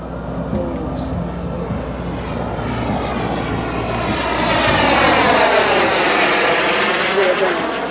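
Boomerang ATOM model jet airplane on takeoff with half flaps set, its engine a loud rising whine that sweeps upward in pitch and swells as it passes, with a voice talking beneath it.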